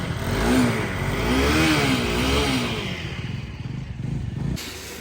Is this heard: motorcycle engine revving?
yes